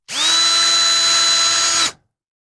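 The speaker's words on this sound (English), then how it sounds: "That's right, that's a drill if you're not watching the video side of things." A power drill spins up sharply, whines loud and steady at close range for under two seconds, then cuts off abruptly.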